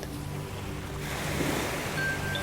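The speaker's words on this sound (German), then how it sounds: "das unerschöpfliche Ausleeren vom Meerwasser am Sandstrand" Sea waves washing steadily onto a sandy beach, a soft continuous surf wash with gentle swells and a light breeze, fairly quiet and without any voices.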